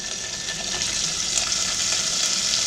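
Smoked ham hocks dropped into a hot pan sizzle loudly and steadily, a dense continuous crackle and hiss holding at an even level with no voices.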